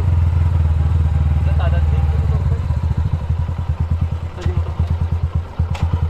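Navy group motorcycles arrive with a loud, close, steady engine rumble that turns into a pulsing, chugging throb as they pass, with people talking over the noise.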